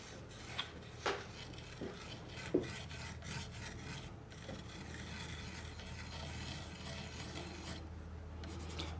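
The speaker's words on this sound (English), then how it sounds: "And then you just need to rub the salt off." A hand steadily rubs salt grains off painted glass, making a soft, continuous gritty scraping with a few louder scratchy strokes near the start. No one speaks.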